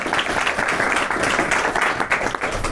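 Short burst of dense audience clapping at an evening class, loud and continuous for a few seconds with no talk over it.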